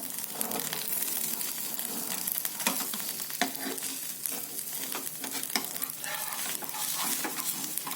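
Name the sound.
rava dosa cooking on a griddle over medium flame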